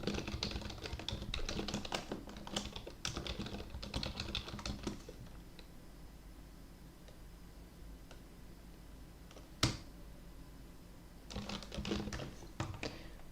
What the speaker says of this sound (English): I'm going to type in my email there